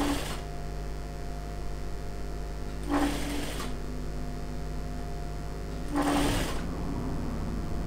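Sewing machine stitching sarong fabric into trousers, running in two short bursts of under a second each over a steady low room hum, with no talk.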